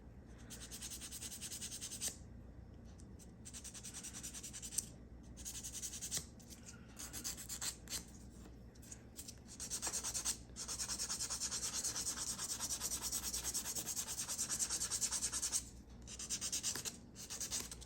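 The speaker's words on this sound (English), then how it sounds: "once you've done this process of sanding everything down" Steady rasping of a nail file rubbed back and forth across dip-powder fingernails, close up, in long continuous strokes with brief pauses.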